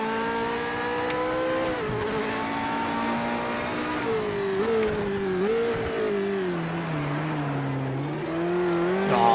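Race car engine in a racing video game, a steady high-revving drone that rises and dips through gear shifts and corners, loud and close with no talk over it.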